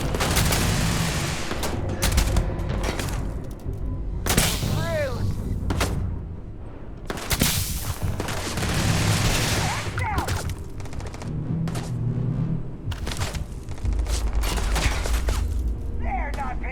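Rifle fire in the video game Starfield, repeated sharp gunshot bursts spread through a busy game soundscape, with speech heard at points.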